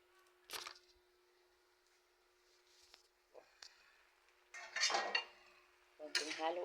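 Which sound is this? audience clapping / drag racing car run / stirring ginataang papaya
stirring ginataang papaya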